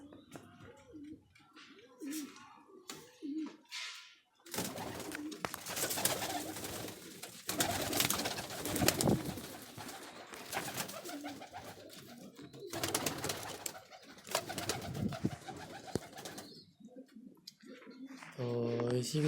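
Pigeons in a breeding setup coo intermittently amid rustling and handling noise, with someone talking over much of it in a quiet indoor space.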